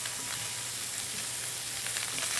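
Italian sausage and garlic browning in a pan, giving a steady, even sizzle that stays close and constant throughout with no talk over it.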